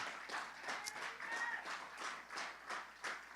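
A church congregation clapping during a Spanish-language sermon, soft and distant, in rhythmic bursts of claps, with a faint voice underneath.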